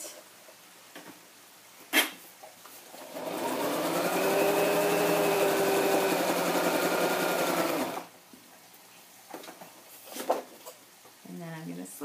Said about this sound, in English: So I think the sewing is probably just about done on the page.